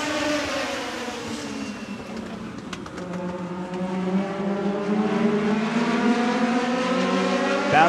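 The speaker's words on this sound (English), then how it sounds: "Legend cars coming at you for 35 laps from Orange Show Speedway." Legend race cars scream around Orange Show Speedway in San Bernardino, California, their engines droning loud and close in rising and falling tones as the pack runs continuously through the lap.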